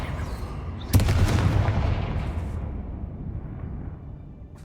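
Blasting-curse explosions from the Hogwarts Legacy video game: a sharp booming burst hits at once, then a broad rumbling roar lingers and slowly fades over several seconds.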